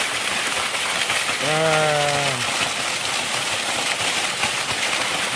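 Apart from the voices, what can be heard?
waterfall roaring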